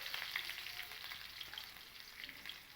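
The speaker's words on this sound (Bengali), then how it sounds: "ওই একই তেলের মধ্যেই আমি কারি পাতাগুলোকেও ভেজে নেব" Curry leaves fry in hot oil left from frying raisins, giving a steady, bright sizzle with small crackling pops and faint stirring throughout, close and moderately loud.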